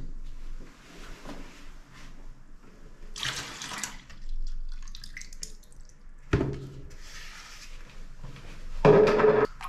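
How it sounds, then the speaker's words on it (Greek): Water is poured into bathroom paint to thin it, with short splashing pours and drips breaking a quiet background, the loudest pour coming at the end. "Λοιπόν, θα το αραιώσουμε με λίγο νερό, λίγο, δεν θα βάλω πάρα πολύ."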